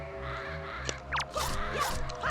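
A bird in The Legend of Zelda: The Wind Waker caws a few times, fairly close, over a steady droning background of game music and ambience.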